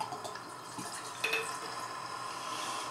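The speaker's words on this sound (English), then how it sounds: "let's start pouring it" The Real McCoy rum aged five years trickles from a bottle into a glass, a faint, steady liquid splash with a few drips, quiet and close.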